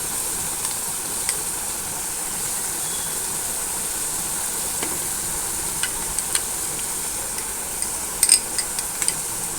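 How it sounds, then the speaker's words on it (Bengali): Spice paste being sautéed in a pan for soybean muitha, with a steady hissing sizzle and occasional light scrapes and taps from stirring. "মশলাটা আমি কষতে থাকবো"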